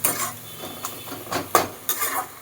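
Red amaranth greens stirred in a metal cooking pot, with a utensil scraping and clinking against the sides in several separate strokes, close and fairly loud, no talk.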